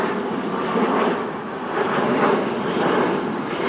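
An airplane engine drones overhead above the City of Ontario, a steady, loud, broad roar that swells and eases slightly without any break.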